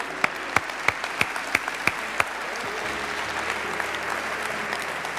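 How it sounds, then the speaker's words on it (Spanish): Church congregation clapping, starting with a series of sharp, evenly spaced claps in unison before dissolving into a steady, continuous round of applause that fills the room. "Dale un aplauso a Dios."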